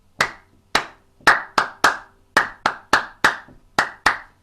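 Hands clap in a steady walking rhythm, about a dozen sharp, close, bright claps spaced evenly with short pauses between them, alone with no talking.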